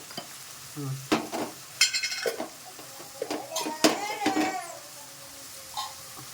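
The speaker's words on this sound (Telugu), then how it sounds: "మొత్తాన్ని కలబెట్టుకోవాలి గంటతో అటు ఇటు మొత్తం కలిసేంత వరకు కలబెట్టుకుంటే" Cluster beans with turmeric stirred in a pan with a ladle, giving a series of scraping, clattering strokes over a light sizzle, close and moderately loud, with a few bright metallic knocks and no talking.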